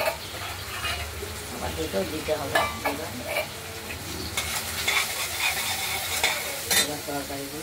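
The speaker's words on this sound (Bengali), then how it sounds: "ওই মাছের তেলেই মাছ তরকারিগুলো রান্না হবে।" Vegetables such as ridge gourd, long beans, eggplant and potato fry and are stirred in fish oil with salt and turmeric, a close crackling sizzle broken by repeated scraping stirs throughout.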